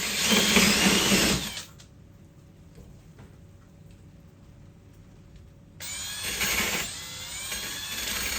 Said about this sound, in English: so I had to drill a hole to get the cable through